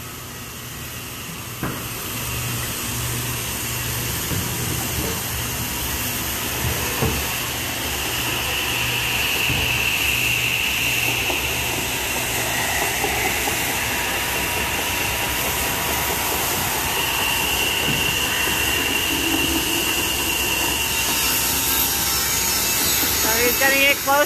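Sander working the back of a custom wooden chair in a furniture shop, a steady abrasive whir and rubbing hum running the full length with shifting pressure, fairly loud and close amid workshop noise.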